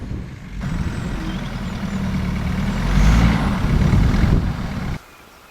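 An old vehicle that has sat unused for about two years starts moving, its loud truck-like engine rumbling steadily, swelling louder midway with a hiss like an air brake, then cutting off abruptly near the end.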